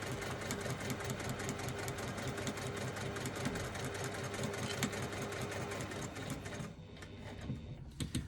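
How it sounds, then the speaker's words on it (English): Domestic sewing machine back stitching the start of a zipper seam on a bag's exterior pocket, a steady, fast mechanical whirr of needle strokes running close and loud throughout before easing off near the end. "I'm just back stitching a couple of stitches at the beginning to secure my threads"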